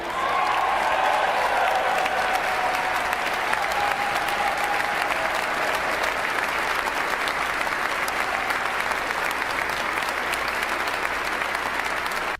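A large crowd at a Trump speech applauding steadily, a dense, sustained wash of clapping that holds at full strength for the whole stretch with no talk over it.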